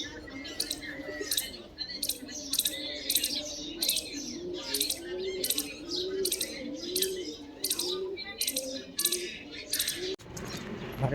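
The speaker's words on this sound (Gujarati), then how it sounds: "આ છે અમારા ગામનો કબૂતરો." Village pigeons cooing in soft low wavering tones, accompanied by a regular series of sharp high chirps from other birds.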